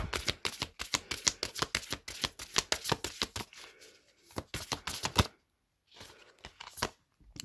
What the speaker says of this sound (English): I'm going to pull one more card to close out this reading.